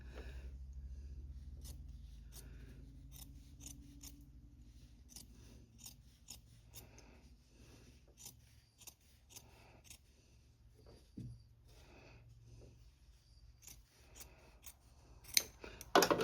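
Scissors cut fabric in a weaving studio, making a series of sharp, close snips spread irregularly across the span over a faint low hum, with a few louder clicks near the end.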